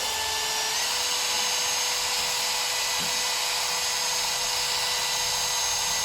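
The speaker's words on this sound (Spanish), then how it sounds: "Vamos a utilizar un taladro." A power drill whines steadily at high speed throughout, spinning a component to test a car's crankshaft position (CKP) sensor, loud and continuous, its pitch shifting slightly early on, with no talking.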